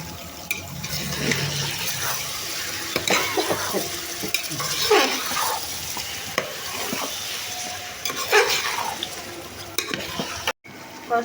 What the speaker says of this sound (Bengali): মাংসটা মশলার সাথে মিশিয়ে নিয়েছি